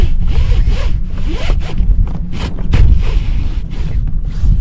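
Torn fabric of a damaged sailboat mainsail being ripped and pulled apart, giving loud, continuous rasping and zipper-like tearing close up, with brief rubbing pauses.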